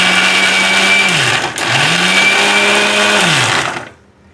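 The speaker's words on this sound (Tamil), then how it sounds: "4 தக்காளி இந்த மாதிரி சின்ன சின்னதாக நைஸாக கட் பண்ணி இப்படி அரைச்சிக்கிடலாம்." A mixer grinder whirs loudly as it grinds four finely chopped tomatoes: a high motor whine runs, winds down briefly, then spins back up and runs again before stopping at the end.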